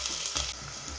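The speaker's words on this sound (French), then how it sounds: "Une fois que vous avez fait sauter vos oignons" Onions sauté in olive oil in a pan, giving a steady close sizzle and crackle that runs unbroken through the moment.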